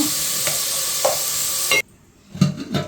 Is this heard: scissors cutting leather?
no